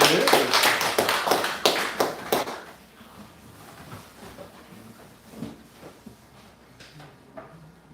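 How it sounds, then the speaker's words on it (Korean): A church congregation at a Sunday afternoon service claps briefly in praise, a few seconds of close rhythmic clapping that quickly fades into quiet room sound with scattered small noises. "우리 박수로 하나님께 영광을"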